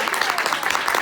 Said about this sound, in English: Round of applause for counselors